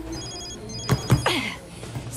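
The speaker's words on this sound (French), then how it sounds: "c'est mon téléphone. C'est Suzanne qui m'appelle et il faut que je réponde" A telephone rings in two distinct bursts close together, loud and near, with a low background hum and no talk over it.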